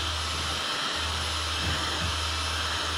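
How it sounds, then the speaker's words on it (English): Blow dryer drying water-based ink, a continuous steady whooshing hum with a brief dip near the start, running alone without talk. "they will dry much faster if you use a blow dryer on them"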